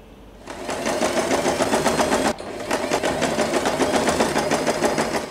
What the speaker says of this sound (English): Just leave a little gap here and we are going to sew this part.